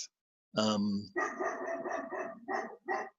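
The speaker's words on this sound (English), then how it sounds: "Can you hear my dogs barking?" Dogs bark at intruders in a backyard in a run of repeated barks. A person talks at the same time, and the voice and the barking blend closely together.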